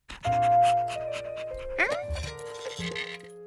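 A cartoon dog in a Curious George episode pants briefly among bright musical tones and chimes, with a short whimpering slide partway through, moderately loud and close.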